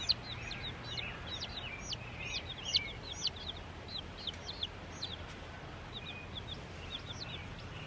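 A crowd of baby chicks peeping nonstop, with many high, thin chirps overlapping in a busy, steady chorus close by.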